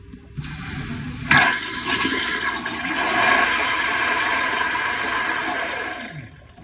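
A trailer toilet with a valve-mounted flush runs a full cycle: a sudden loud rush of water, then steady swirling and draining for about five seconds before cutting off, heard alone up close.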